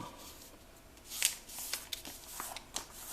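Paper is creased and folded into an origami iris flower, giving soft crisp rustles and several sharp snapping creases close up in a quiet room.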